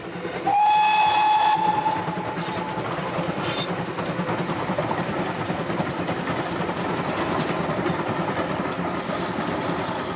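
Heritage steam railway train running through the Dee valley in North Wales, opening with a loud sustained whistle blast over steady rumbling carriage and track noise that continues throughout.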